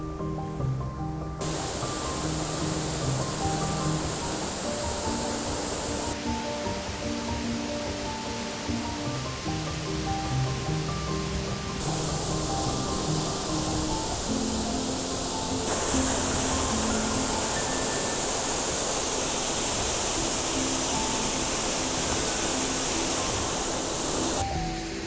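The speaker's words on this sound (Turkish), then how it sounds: "Şelaleye karşı dinlenmek" A waterfall along a stream in the forests of Yalova, Turkey, roars as a steady, dense wash of falling water that stays constant throughout, close and loud with no voices.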